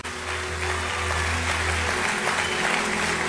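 Church congregation applauding loudly at a New Year's Eve worship service, a dense, steady wash of clapping that swells and holds throughout, with a low droning music or organ tone underneath.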